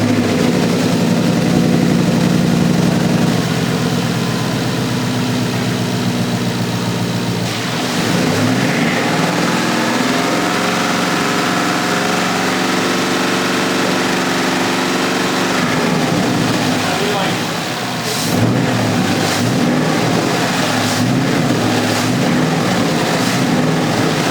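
A Ford Mustang with a Coyote V8 and 182,000 miles idles steadily after a water pump replacement, a continuous loud rumble with a brief dip near the middle and a slight shift in tone late on.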